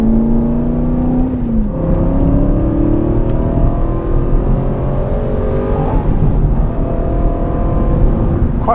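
An Aston Martin engine pulls hard and loud from inside the cabin, its tone climbing through several gear changes with a throaty, continuous growl.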